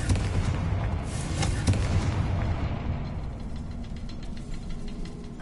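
A Confringo blasting spell explodes in the Hogwarts Legacy video game, a loud, dense burst of booming blasts and crackling debris that rolls on and slowly thins out, with no talking over it.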